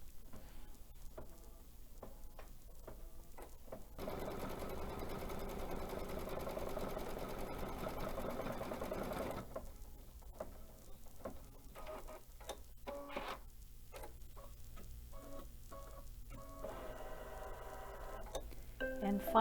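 An embroidery machine stitches a tree design, its needle running in a steady rapid mechanical chatter that shifts between denser, louder stretches and lighter intermittent ticking, close up with no talking.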